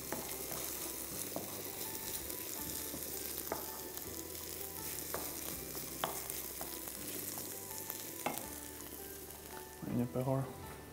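Food sizzles and fries steadily in a pan while macaroni with broccoli is cooked, with scattered stirring clicks and utensil taps throughout and a brief louder clatter near the end.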